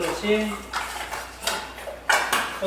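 A larger bowl is handled while baking a butter sponge cake with separated eggs, giving sharp clinks, knocks and scrapes of a bowl and utensils. The sounds come in an irregular run of close, fairly loud hits.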